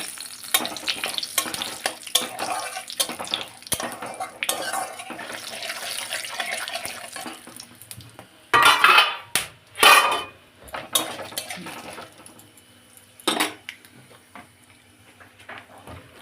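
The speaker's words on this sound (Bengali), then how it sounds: "মাংস এবারে তেলের মধ্যে সব দিয়ে দিলাম। মশলা সব দেওয়া দিয়েছি, সব আমি এর মধ্যে দিয়ে দেবো। এটা এইভাবে ভেজে নেব পুরো মাংসটা।" Chicken pieces with whole spices such as bay leaves, chili, cinnamon and star anise frying in oil in a pot, a low crackling sizzle broken by several louder splashing, clattering bursts.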